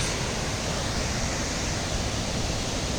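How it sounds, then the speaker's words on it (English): Waterfall in Hayfield memorial park, a steady, dense rush of falling water that stays loud and close and never lets up, heard alone with no voices. "There we got a waterfall."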